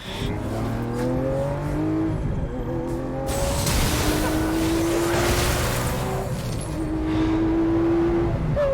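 A Lamborghini engine revs hard under acceleration, rising and falling through several loud, sustained pulls with a continuous roar throughout.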